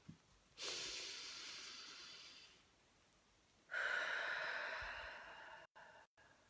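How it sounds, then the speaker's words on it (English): Two long, deep breaths are drawn in close to the mic, each a soft airy hiss lasting a few seconds, separated by quiet. "Okay, take a deep breath."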